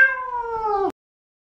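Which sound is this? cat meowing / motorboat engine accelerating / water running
cat meowing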